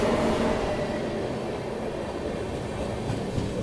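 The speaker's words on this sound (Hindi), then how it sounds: "गणगौर एक्सप्रेस पहुंच रही है यहाँ पे WAP 7 लोकोमोटिव के साथ" The Gangaur Express rolls in behind a WAP 7 electric locomotive, making a steady rumble and wheel clatter that stays fairly faint and even throughout.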